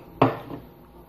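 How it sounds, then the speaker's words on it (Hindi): A single soft thud with a brief clatter as minced beef lands in a metal pressure cooker, followed by quiet. "ये देखिए कुकर में मैं डाल रही हूँ कीमा,"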